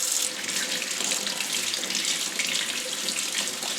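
Water pouring steadily from a sink tap, a continuous close splashing hiss with no break and no voices.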